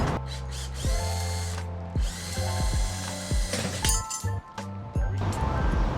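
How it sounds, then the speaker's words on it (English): A power drill bores out a GPU support bracket in an Alienware computer case, whirring in repeated short bursts that spin up and wind down, with metallic clinks between passes. "so I'm gonna need to drill this out."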